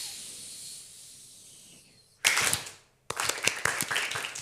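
A group performs a balloon clap: a long soft hiss imitating an inflating balloon fades out, then a sharp burst of clapping, a brief pause, and a second round of lively clapping.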